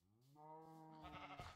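A single sheep bleats in the Minecraft mod Better Than Wolves, a wavering, nasal call that rises and breaks near the end, heard up close with no talking.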